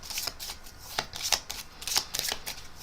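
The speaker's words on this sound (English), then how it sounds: "take this pile of cards and to give it a good shuffle" A pile of playing cards being shuffled up close, quiet rapid riffling bursts repeating in a loose rhythm.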